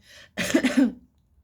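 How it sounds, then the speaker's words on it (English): A single short cough, close and fairly soft, with a brief breathy sound just before it. "I just had a little bit of a cough."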